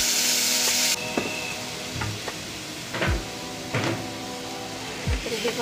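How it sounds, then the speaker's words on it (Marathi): Tomatoes and green chillies sizzle in hot oil for a tempering for dal and rice, a loud burst of frying up front settling into steady crackle with a few spoon knocks against the pan. "आपली फोडणी आता एकदम मस्त कडक बसणार आहे"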